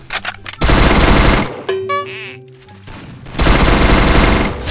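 A Vector submachine gun fires loud, rapid bursts in a shooter video game, with a dense burst at the start and another at the end around a short stretch of ringing game sounds.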